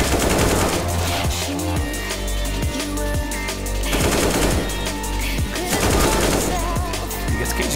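Rapid gunfire from a CZ pistol in a CS:GO match cracks out in dense repeated bursts, loud and continuous over a busy game soundscape.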